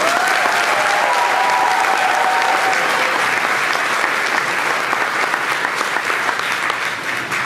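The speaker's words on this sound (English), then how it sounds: "Let's start by giving them a round of applause." Sustained loud applause from the audience at an 8th grade middle school graduation ceremony, an even wash of clapping that holds for several seconds and tapers slightly at the end.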